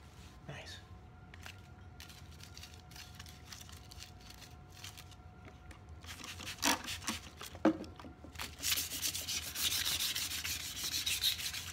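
Aluminum foil rubbed over rusty metal with detailing spray, a scratchy scrubbing that starts faint and sporadic and grows into steady, louder abrasive strokes.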